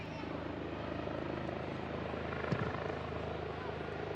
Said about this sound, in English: that was a helicopter you most likely heard just flying over us